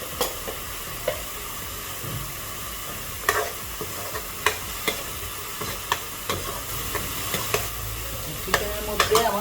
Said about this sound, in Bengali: এটা এখন পেঁয়াজের সাথে ভাজা ভাজা করে নিব।